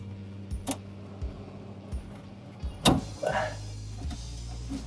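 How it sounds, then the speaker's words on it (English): Plastic zip ties snipped with cutters while removing a Jeep JK evap line: a sharp single snip near three seconds stands out above a steady low hum, with a few faint clicks and handling noises around it. "Snip these two zip ties."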